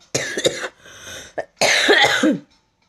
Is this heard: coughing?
yes